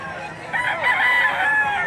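Roosters crow at a crowded chicken market in Lipa City, Batangas, overlapping calls rising loud and near across the moment, with faint murmuring in the background.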